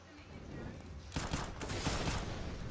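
Rapid bursts of gunfire from a comical banana gun in the Counter-Strike video game, a dense fusillade of shots starting about a second in and continuing loudly with voices in the background.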